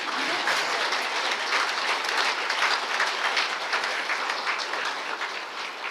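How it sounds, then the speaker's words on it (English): An audience applauds to welcome the Lord Provost of Aberdeen at a gala, with steady, dense clapping from a large crowd filling the room at an even level throughout. "You can start clapping now."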